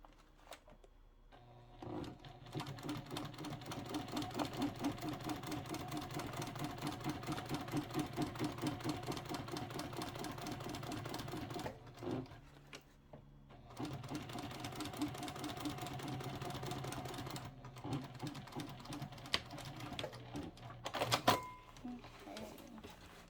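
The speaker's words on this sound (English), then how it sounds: "now we're sewing down the other side of that strip" A sewing machine stitches down a fabric strip on a boxy zippered pouch in steady, rapid mechanical runs of needle clatter, pausing briefly midway and near the end, close and moderately loud in a quiet room.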